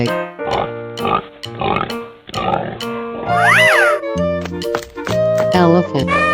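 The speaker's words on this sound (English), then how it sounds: "Pig." Cartoonish pig oinks and grunts from a 3D animal video game, several short bursts close and loud, mixed with game music and other animal calls.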